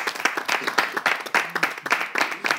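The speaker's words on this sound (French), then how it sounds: "Est-ce qu'on peut applaudir le stagiaire?" An audience at a New Year's Day show claps for the intern, a lively burst of many hands with uneven, rapid claps that rise and fall in waves, fairly close and loud.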